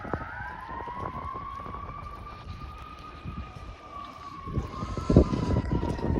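A wailing ambulance siren drifts slowly in pitch as it leaves, while passing traffic rumbles and wind and rain noise fill the background, the tone gradually fading away.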